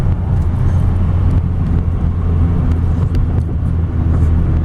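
A 1986 Nissan D21 Hardbody King Cab pickup accelerates hard, its engine a loud, steady low drone with road rumble filling the cabin throughout.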